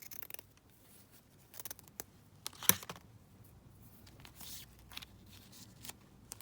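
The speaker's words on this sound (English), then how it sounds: "Let me just cut this down slightly." Scissors snip through a strip of green lace in a quiet room, the soft crisp cuts coming in short irregular bursts, close by and faint, with one sharper snip partway through and no one speaking.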